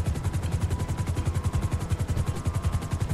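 Helicopter in GTA Online, its rotor chopping in a steady, fast rhythmic thump with a loud engine whine throughout, close and continuous with no talking.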